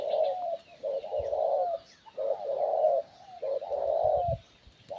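A spotted dove coos in a steady series of paired notes, three or four phrases separated by short gaps, close and clear with low background noise.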